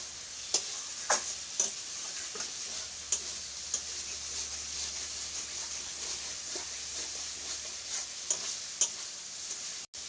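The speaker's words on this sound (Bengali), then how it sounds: "এই যে আলুটা আমি এর সঙ্গে মশলার সঙ্গে কষিয়ে নিয়েছি" Potatoes sautéed with spices in oil in a pan, a soft ongoing sizzle broken by a series of sharp spoon scrapes and taps as they are stirred.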